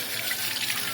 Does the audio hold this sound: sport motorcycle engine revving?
no